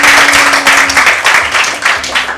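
An audience at a children's show claps hands steadily and loudly for a couple of seconds, a dense patter of applause with a faint tonal hum underneath.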